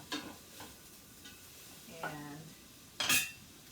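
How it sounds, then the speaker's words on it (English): Onions sautéing in a pot are stirred, giving a few distinct spoon clanks and scrapes against the metal over a soft, low sizzle, close by, ending with a louder scraping burst. "needing to make sure that I keep stirring my onions that are over here sauteing"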